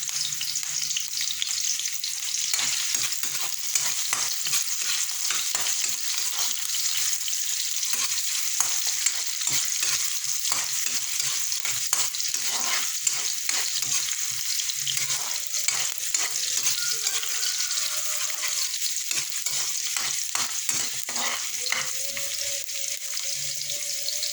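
Ginger sautéing in a hot pan for chicken tinola, a steady loud sizzle running throughout with repeated scraping stirs of a spatula, no talking.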